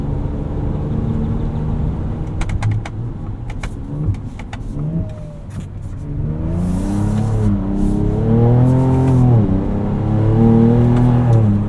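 A 2024 Ford Ranger Raptor pickup's engine revs and accelerates, its tone climbing through rising gears, loud and close, with no talking over it.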